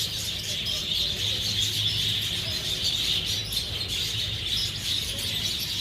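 A dense, continuous chorus of small caged birds at Peshawar Zoo, many overlapping chirps and tweets blending into a steady high twittering, with a faint low murmur of the surroundings underneath.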